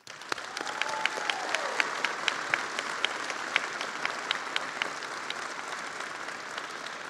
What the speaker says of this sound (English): to applaud everyone that supported them along the way